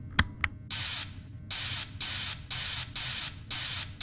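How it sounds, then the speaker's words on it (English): Repeated hissing bursts of cleaner sprayed onto an animatronic suit, six or seven short spritzes in an uneven rhythm, close and fairly loud over a low rumbling room ambience, with a couple of sharp clicks before the spraying starts. "So go ahead and start spraying the suit"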